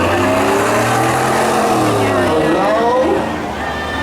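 A Chevrolet Silverado truck drag racing at a night spectator drags event at Beech Ridge, its engine roaring loud and close with rising, shifting revs that fade near the end, under an announcer's voice.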